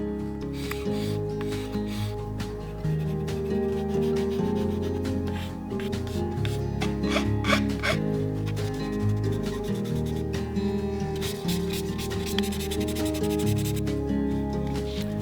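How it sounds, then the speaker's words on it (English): Steady rhythmic rubbing of fine-grit sandpaper over a plastic Tamiya Ki-84 scale model continues throughout, with a tonal music bed playing underneath. "I can start filling any gaps and then sanding everything down"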